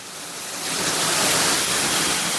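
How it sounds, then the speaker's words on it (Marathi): Heavy rain pours down in a dense, steady roar of broadband noise that swells slightly and stays constant throughout, close and loud with no voices. "पावसाने खरंच खूप जोर पकडलेला आहे."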